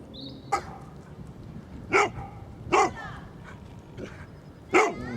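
A dog barks four times in sharp, spaced bursts on a countryside walk around Henley, fairly close and loud against quiet outdoor background.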